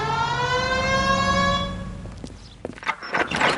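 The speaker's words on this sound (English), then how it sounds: "Hit the siren." A police car siren in the video game L.A. Noire wails on a steady, slightly falling tone, then fades out into a few dull thumps and clatters.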